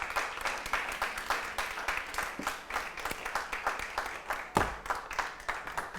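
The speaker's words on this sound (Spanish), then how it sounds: "Aplaude a Jesús por lo menos." A church congregation at a celebration service applauds, with many hands clapping in a loose, pulsing rhythm and a few sharper claps standing out near the listener.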